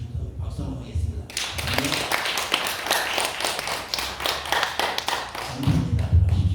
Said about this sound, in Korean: 우리 열심히 충성 박수 한번 하겠습니다